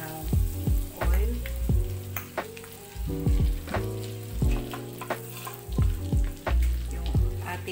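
Butter and oil frying in a pan while lumpia filling is being prepared, a steady sizzle broken by repeated clattering stirs and scrapes, loud and close throughout.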